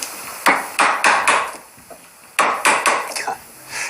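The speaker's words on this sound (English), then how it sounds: "And then we remove the waste with the chisel." Chisel struck to chop waste wood out of a hand-cut woodworking joint, splitting in from one side: a run of sharp, close woody knocks in two bursts, four or five blows each with a short pause between.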